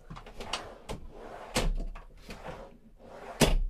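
Drawers in a camper van on an ALKO chassis are opened and closed, giving several sharp knocks and sliding thuds, with two louder bangs standing out.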